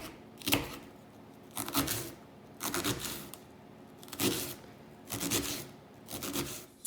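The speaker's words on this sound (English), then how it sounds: "Now going to chop the onion really finely using my claw technique with my fingers out of the way." A knife finely chops red onion on a board in quick bursts of rapid strokes separated by short pauses, close and fairly quiet, with no one talking.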